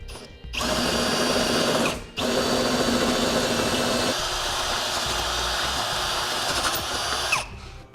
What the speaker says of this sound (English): we need to drill that out to a 1/2 inch as well